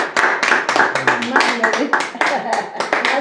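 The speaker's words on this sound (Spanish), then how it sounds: "denle un aplauso a Dios" A church congregation claps in a rapid, uneven burst of applause, close and lively, with voices mixed in under the clapping.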